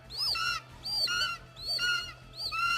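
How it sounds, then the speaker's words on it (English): A stock bird call used as a film sound effect: four repeated warbling, whistling phrases in a steady rhythm, clear and close over a low background hum. "they used the bird sound, this like bird sound effect"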